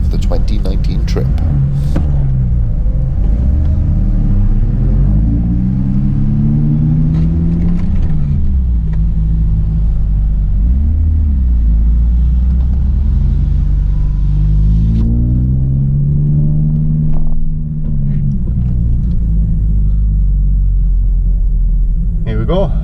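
A car driving a lap of the Nurburgring track, a loud continuous engine drone that rises and falls through gear changes and acceleration, heard from inside the cabin with someone talking over it.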